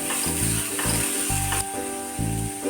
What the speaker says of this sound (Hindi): सारी सब्जियों को हाई फ्लेम पर हम थोड़ी देर के लिए फ्राई कर लेंगे।